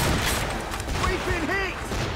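Ship cannons firing during a naval battle in the video game Assassin's Creed Rogue, a dense rumbling barrage under shouted crew commands and game effects.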